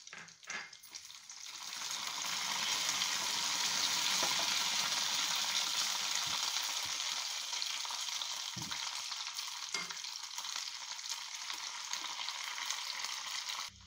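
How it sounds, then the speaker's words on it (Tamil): Grated coconut sizzles and fries in hot ghee for tapioca payasam, a steady loud crackling hiss that swells after the first seconds and continues with occasional stirring scrapes, no voices. "நெய் சூடாயிடுச்சு, இப்போ நான் அரிஞ்சு வச்சுருக்கிறேன் தேங்காவை சேர்த்துக்கலாம்"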